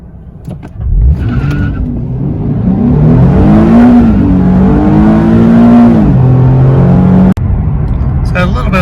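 A Nissan 370Z in sport mode accelerates hard from 0 to 60, its engine climbing loud and close through first gear, dropping at a quick shift, then rising again.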